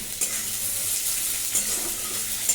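Cumin seeds, dried red chillies and bay leaves temper in hot oil, a steady, loud, close hiss of sizzling that carries evenly throughout with a few faint clinks.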